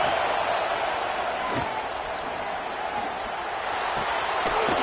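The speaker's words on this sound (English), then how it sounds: "listen to this crowd noise. This stadium is vibrating." A packed football stadium roars in a dense, steady wall of crowd noise that fills the whole space evenly, loud and continuous without letting up.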